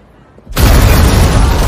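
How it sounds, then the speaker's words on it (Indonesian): After a moment of near quiet, a sudden loud blast destroys a car, erupting into a sustained roaring rumble, close and overwhelming. "ledakan maha dahsyat menghancurkan mobil"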